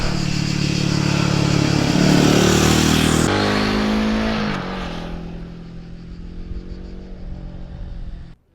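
A Royal Enfield Guerrilla 450 motorcycle rides by loudly with a revving engine roar that drops in pitch as it shifts and then fades into the distance.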